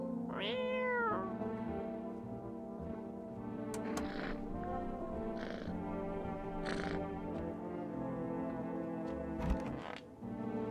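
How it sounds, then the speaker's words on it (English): A cat in the video game No, I'm Not a Human meows once, close and clear, over soft ambient game music. Faint scattered noises follow. "Cat's here."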